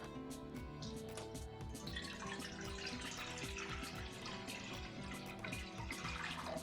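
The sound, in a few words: pouring 1 litre of water into a kadhai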